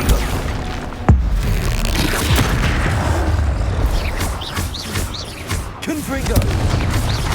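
Confringo blasting spells in Hogwarts Legacy go off as loud booming explosions, one sharp burst early then rumbling blasts and crackles, with a voice shouting spell names over the combat noise.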